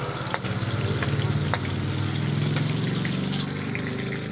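Onion frying in a pan for an ampalaya dish, a steady close sizzle and crackle with a few sharp spatula clicks and no talking.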